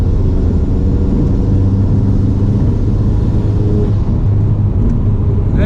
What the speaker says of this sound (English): We're cruising down the highway.